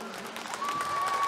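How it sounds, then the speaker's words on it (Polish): Applause from a concert audience for the singers, a steady, moderately loud wash of clapping that swells slightly toward the end, with a faint sustained tone running beneath it. "naprawdę wielkie, ogromne brawa dla nich za wytrwałość, za piękne głosy"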